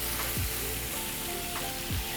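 A hot pan sizzles hard as white wine is added to deglaze it, a dense frying hiss with a couple of short scraping strokes, close and loud, with no talking.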